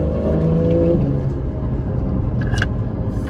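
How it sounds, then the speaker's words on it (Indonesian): A 2013 Porsche 911 Carrera S with a 3.8-litre engine and PDK gearbox accelerates on an ordinary city street. Its engine note climbs in rising harmonic tones that then settle into a steady rumble heard from inside the car. "Kita coba aja sekarang, coba akselerasi."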